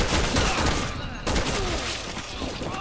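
Gunfire in the Resident Evil 6 video game, a loud, dense fusillade of rapid shots running continuously through the clip, with a voice faintly under the barrage.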